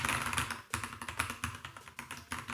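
Rapid, steady typing on a heavy-duty mechanical keyboard with brown switches and red Enter and Escape keys, a close, clattery run of keystrokes with brief pauses, no talking.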